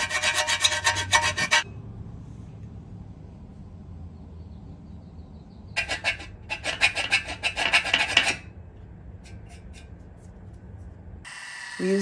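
Hand filing to square drilled holes for carriage bolts in metal angle iron for solar panel mounts: two bursts of harsh, rhythmic rasping strokes, close and loud, separated by quiet stretches with low background hum.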